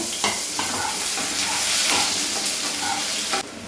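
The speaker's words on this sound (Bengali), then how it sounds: "এবার আমি পেঁয়াজ কেটে দিলাম" Chopped onions fry in hot oil for a cauliflower kopta gravy, giving a loud, dense, continuous sizzle up close with a few stirring knocks before it drops off abruptly near the end.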